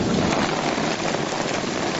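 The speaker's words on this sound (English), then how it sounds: "it rains in torrents for a month" Dense, heavy rain pours down steadily, a thick constant hiss of drops with no pauses or voices.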